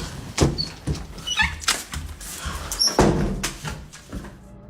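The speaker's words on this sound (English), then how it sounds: "a series of knocking sounds can be heard from somewhere nearby" Inside a home, a series of dull knocks and thuds sounds nearby, irregularly spaced hits of moderate loudness with rustling in between.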